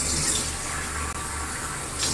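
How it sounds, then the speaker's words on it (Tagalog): Water runs steadily from a hotel sink tap in Bangkok, a continuous hiss that holds at an even level from start to finish with no talking over it. "Yung lababo nila dito, pwedeng mainit, pwedeng malamig yung tubig."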